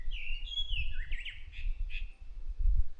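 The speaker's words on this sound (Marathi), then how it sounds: "पक्ष्यांचा आवाज येतो आहे बघा." Birds sing at sunset near a village in the Konkan, a clear warbling, chirping phrase rising and falling over low rumbling background noise, moderately close.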